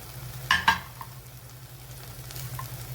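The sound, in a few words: spices sautéing in a pan for paneer curry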